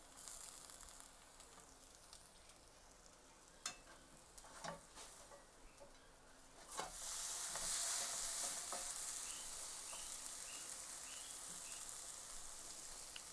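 Bread cheese pudia fries in a pan, a soft continuous sizzle with a few sharp clinks and scrapes as it is flipped, the sizzle swelling louder and brighter after the turn.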